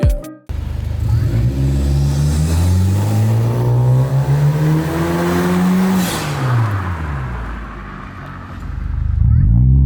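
A Honda Civic RS Turbo revs hard through its exhaust, pitch climbing steadily, then dropping and rising again, loud and close with no talking.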